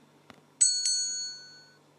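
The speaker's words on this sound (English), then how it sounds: "tap on the bell." A bell in the Escape Logan Estate video game rings twice in quick succession, a bright, clear ding that rings on and fades, heard alone after a soft tap.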